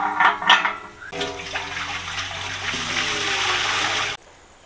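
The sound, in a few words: water being poured into cooking vessel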